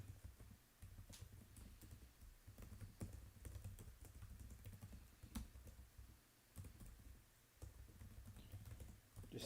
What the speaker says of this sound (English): Just typing stuff, the normal.